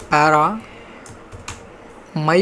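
CSS code is typed on a computer keyboard: a few soft, sparse key clicks sit between bursts of close speech at the start and end.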